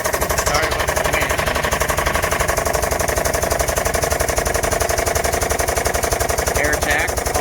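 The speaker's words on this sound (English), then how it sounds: "Air jack, always handy." A pneumatic air jack lifting a car for a tire repair hammers out a loud, rapid, machine-gun-like rattle that runs continuously at close range, with wind buffeting in the background.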